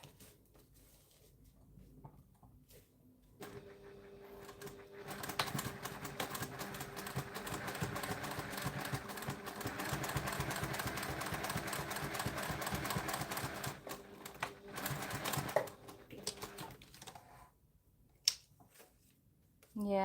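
A home sewing machine top stitching a small flex frame sunglasses pouch, skipping stitches, runs in a steady fast mechanical rattle for about twelve seconds between quieter handling noises, close and fairly loud.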